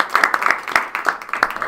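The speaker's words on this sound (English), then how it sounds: "Quick round of applause for that." Brief round of applause at a university case competition after a team's question-and-answer session; a small group claps in scattered, uneven bursts, fairly close, with some faint background murmur.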